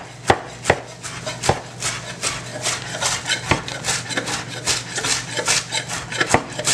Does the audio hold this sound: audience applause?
no